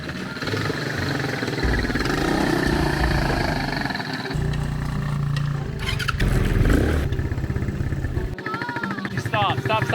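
An ATV engine runs with a loud, steady droning rumble that shifts in pitch and roughness, with other sounds mixed in and voices heard at times.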